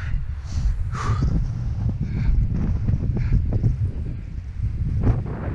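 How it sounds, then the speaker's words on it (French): Strong, gusty wind on a Pyrenees mountain ridge near Pic Perdiguère buffets the microphone in a loud, continuous low roar, with a few faint higher tones passing over it. "je sais pas si vous m'entendez avec le vent parce que ça souffle hyper fort"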